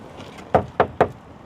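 Three sharp, evenly spaced knocks or clunks from the door of a Skoda Kylaq car, close and distinct against quiet room tone, with no talking.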